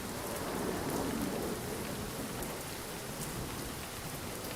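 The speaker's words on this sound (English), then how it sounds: "the rain's pouring louder, and there goes the visibility" Heavy rain pouring in a Zibo mod Boeing 737 flight simulator on the Lanseria to East London route, a loud, constant hiss of drops hammering the surface with no voices over it.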